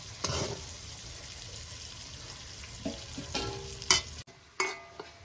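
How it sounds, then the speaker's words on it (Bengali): Steady frying sizzle of onions browning in a pan with a few stirring scrapes and clinks, close by; no talking. "একটু পেঁয়াজটা একটু ভাজা হয়ে যাক লাল লাল করে"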